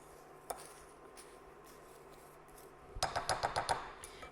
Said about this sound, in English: just use the spoon to mix everything together